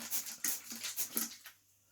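Dogs bark and whimper at a distance in a muffled burst of regular yelps before the noise fades into quiet.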